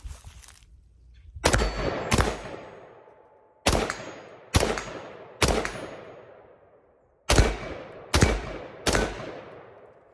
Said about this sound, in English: I'm shooting 8-inch and 12-inch steel targets out there.